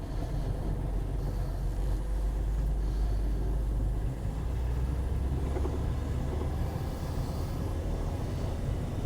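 VW LT31 tow truck driving on the road, a constant low engine drone and road rumble heard from inside the cab, steady and unbroken with no talk.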